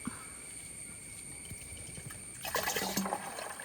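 Steady running water trickles and splashes into a tank, growing louder and more turbulent partway through as the flow strengthens.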